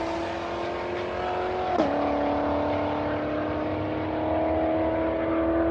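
Pro street muscle car cruising with a loud, steady engine drone that dips sharply in pitch around a gear change, then holds a strong sustained note, up close with no talking.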